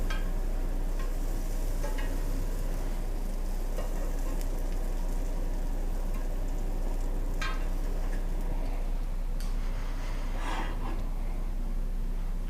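Meat searing in butter in a hot pan gives a steady, continuous sizzle with a few sharper crackles and ticks, close by and with no talking over it.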